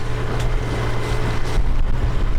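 Sailboat motoring out at sunrise on only one engine, a steady low drone with wind rumble and water wash throughout, no one speaking.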